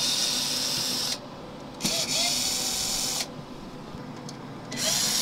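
Screws being removed from the battery unit of an APC UPS, likely with a powered screwdriver: loud, close whirring bursts separated by brief pauses as each screw comes out.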